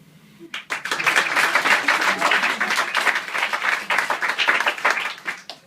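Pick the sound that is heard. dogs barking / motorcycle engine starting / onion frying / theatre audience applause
theatre audience applause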